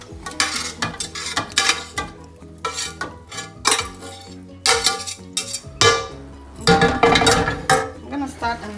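A utensil scrapes cooked egg and vegetables out of a frying pan, with a busy run of close metallic clinks, scrapes and knocks against the pan.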